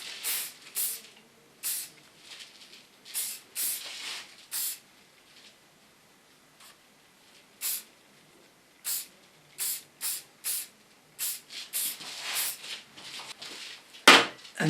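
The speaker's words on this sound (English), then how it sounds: "Use a little bit hairspray," Hairspray misted onto styled hair in short bursts, a string of brief, soft hissing sprays at irregular intervals with quiet gaps between them.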